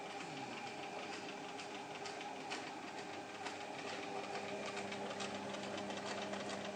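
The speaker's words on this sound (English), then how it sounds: "this is Devon sewing independently" A sewing machine runs steadily, driven by its foot control, with a continuous close whirring and rapid needle chatter and no speech over it.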